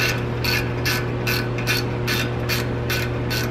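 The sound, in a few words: ratchet loosening exhaust clamp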